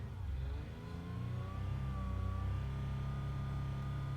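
A 2018 Toyota 4Runner engine revs up and holds at a steady 2,000 RPM, a loud, even drone, with a faint whine rising slightly over the low rumble.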